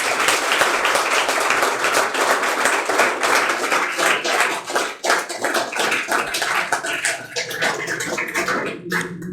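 Loud applause and clapping from an audience at a job-success talk, dense and continuous for the full span, dipping briefly near the middle and thinning at the end.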